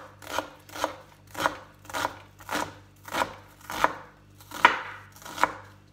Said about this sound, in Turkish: Onun için çok rahat kare kare şöyle soğanları doğruyoruz.